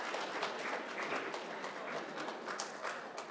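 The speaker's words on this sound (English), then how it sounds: "give yourselves a round of applause" A classroom full of people claps in a dense, steady patter of applause that holds throughout.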